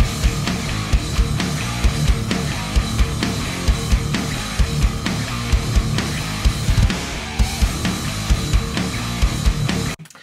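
A dense, loud metal mix plays with two heavy guitars panned hard left and right over pounding drums, steady throughout and cutting off abruptly at the end.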